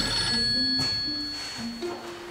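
A telephone rings in a scene from a drama series, giving a few repeated tonal rings spaced across a couple of seconds, moderately loud over a faint hum in the room.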